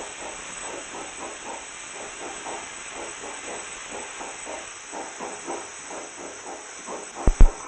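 A pressure cooker vents steam in a steady hiss with regular pulsing puffs, fairly close and alone, followed by a couple of sharp knocks at the very end.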